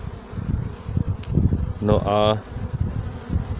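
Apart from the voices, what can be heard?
honey bees buzzing at a hive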